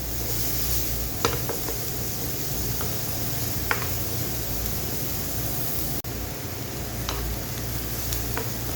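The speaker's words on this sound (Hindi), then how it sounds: "हमने बस प्याज को सौथे करना है, ज़्यादा हमने इसका कलर नहीं देना, सिर्फ सौथे करना है" Onions sautéing in oil in a pan give a steady close sizzle with a few brief clinks of stirring throughout.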